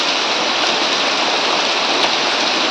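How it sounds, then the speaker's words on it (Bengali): Heavy rain pours steadily during Cyclone Remal in the Sundarbans, a dense, continuous hiss of water with no letup from start to finish. "মানে ভালোই দাঁড়িয়ে বৃষ্টিটা হচ্ছে"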